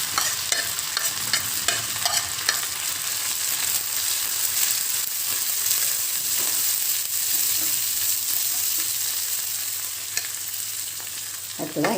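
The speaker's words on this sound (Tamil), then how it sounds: "புதினா நல்லா வதங்கட்டும்." Mint leaves sauté in oil for a mint, coriander and curry leaf pickle, a steady close sizzle running throughout with soft scrapes and rustles of stirring and no voices.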